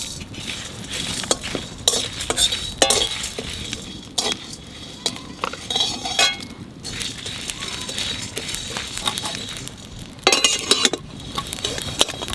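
Whole spices, ajwain, coriander, cumin, black pepper and dried chilies, are dry-roasted and stirred in a pan, giving repeated scraping and clinking of a utensil against metal with irregular rattles.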